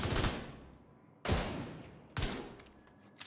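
Big Horn exotic assault rifle from The Division 2 letting off three separate loud bursts, each a sharp crack trailing into echoing fire, spaced roughly a second apart with no voices.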